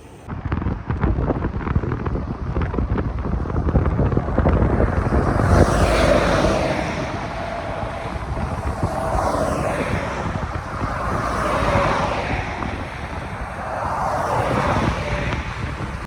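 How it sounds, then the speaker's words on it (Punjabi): Strong desert wind blows steadily along a roadside on a cycling tour from Bahrain toward Kuwait, a loud, continuous rushing roar with buffeting gusts swelling and fading throughout. "ਤੇਜ਼ ਹਵਾ ਵਗਦੀ ਆ"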